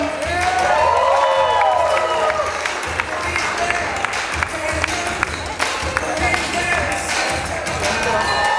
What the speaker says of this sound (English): Clap your hands for Julia.